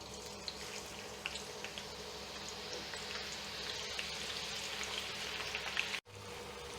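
Sliced onions sizzle in hot oil in a kadai, a steady crackling hiss with scattered pops running throughout, fairly quiet, cut briefly by a dropout near the end.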